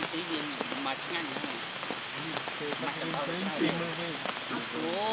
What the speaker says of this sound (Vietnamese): ôi trời mưa